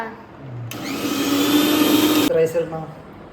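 A mixer grinder whirs loudly for a second or two while blending coffee, then stops, with voices speaking briefly just before and after.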